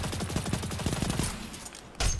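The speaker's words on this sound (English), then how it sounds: "Ooh, nice shooting, Tex." The Ikelos SMG fires in a rapid stuttering burst during online player-versus-player shooter gameplay, loud and close, followed by a brief pause and one more sharp blast.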